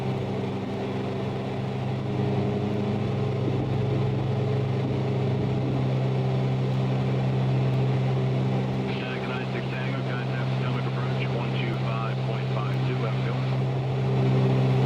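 Twin engines of a simulated Piper PA44 Seminole drone steadily while climbing out after takeoff in Microsoft Flight Simulator 2020, a close, even propeller hum with a faint rise near the end and a brief voice in the background.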